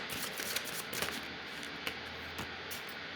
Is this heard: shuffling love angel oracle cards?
yes